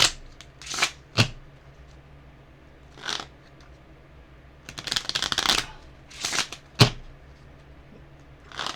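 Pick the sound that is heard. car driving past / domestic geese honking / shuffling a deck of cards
shuffling a deck of cards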